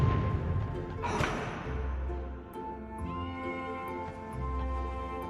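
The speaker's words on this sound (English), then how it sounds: "Hey, I can still hear the cat." A cat meows in the video game Trine 4, with a few drawn-out calls rising over steady game music and ambience.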